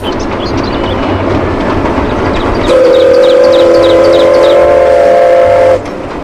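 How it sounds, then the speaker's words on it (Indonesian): A Thomas toy train whistle sounds loudly for about three seconds over a rattling mechanical hum, close by. "Wohohoh kereta Thomas"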